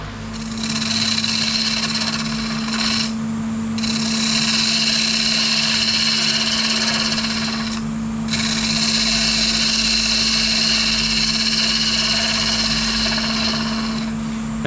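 Yew wood on a wood lathe as the bottom tenon of a box is turned off, a steady loud whirring drone with a constant hum, cutting out briefly twice, and no talking.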